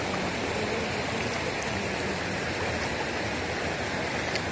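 A shallow stream at Orappankettu rushes steadily as someone wades along it, a constant close wash of flowing water with no speech.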